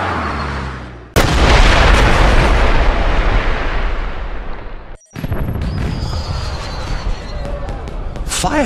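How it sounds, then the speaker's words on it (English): Loud booming fireworks burst one after another in the video game 007: Blood Stone, a sustained roar of explosions with a brief cutoff midway before the blasts resume. "Did you know there were going to be fireworks?"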